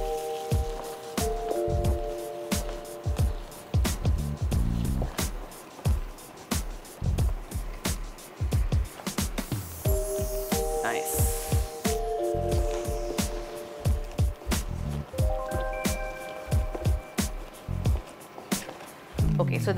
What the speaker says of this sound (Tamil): நம்ம அரைச்சி வச்சுருக்கிற இந்த பேஸ்ட்டை வந்து உள்ளே சேர்ப்போம்